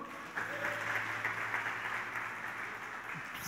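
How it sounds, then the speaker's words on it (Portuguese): A church congregation applauding, a steady wash of many hands clapping that sounds somewhat distant and continues for a few seconds with faint voices mixed in. "Aplauda ao Senhor"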